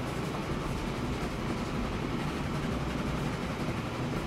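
A train in the Train Fever simulation game rolls into a station with a continuous dense rumble and rattling wheel noise, steady and loud throughout without pauses.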